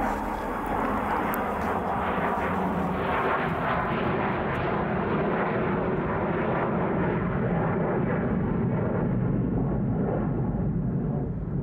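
Steady, loud drone of an airliner in flight on a transatlantic trip toward São Paulo, heard as continuous broadband engine and cabin rumble with no pauses and no voices.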